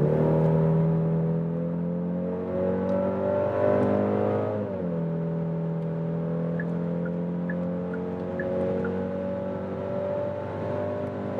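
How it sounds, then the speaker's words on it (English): A Genesis GV70 SUV in sport mode accelerates hard from 90 km/h, heard from inside as a steady engine drone that briefly dips at a gear change and then climbs again, alone without talk. "let's accelerate it out."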